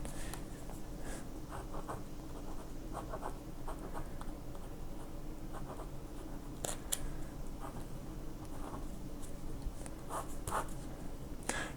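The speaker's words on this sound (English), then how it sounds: "so the pen writes pretty well. It's a little scratchy" A ballpoint pen writes in a brand-new notebook, giving steady, close, slightly scratchy strokes with brief pauses and a few sharper taps throughout.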